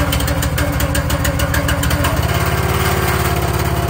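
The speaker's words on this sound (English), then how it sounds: "One pull on this Honda engine." A cold Honda engine on a firewood splitter runs loud and close with a steady, rapid mechanical chug, and its tone and pulse rate shift about halfway through as it settles.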